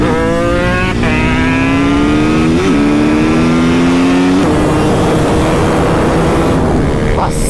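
A high-revving racing engine screams through rising gear pulls, pitch climbing then dropping at shifts, loud and close with steady wind noise throughout.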